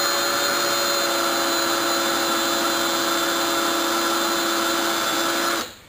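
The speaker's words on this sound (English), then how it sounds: "I will take my drill bit and aim for the center of each of the holes" A power drill boring into a wood block whines at a steady high pitch, loud and close, running continuously before spinning down abruptly at the end.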